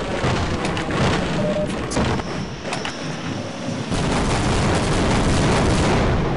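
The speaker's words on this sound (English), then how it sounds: "Oh, they did like a strafing run." Strafing run in Half-Life: a dense, loud burst of rapid gunfire and booming explosions fills the whole stretch, briefly thinning in the middle before surging back full and continuous.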